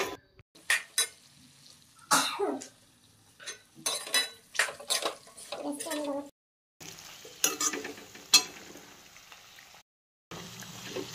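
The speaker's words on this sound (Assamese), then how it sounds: "গেছটো কমতে আমি দি পিনে ভাজি আছোঁ।" Elephant apple pickle frying in a pan over low heat is stirred with a utensil, giving repeated close scraping and clinking strokes in an irregular rhythm over a faint sizzle, with brief pauses.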